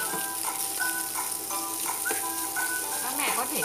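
Mashed, deboned salmon stir-fries in a pan for baby porridge, giving a steady close sizzle with light scraping and a few brief tonal squeaks throughout.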